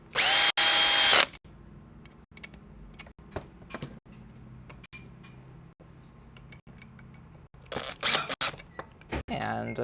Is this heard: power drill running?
yes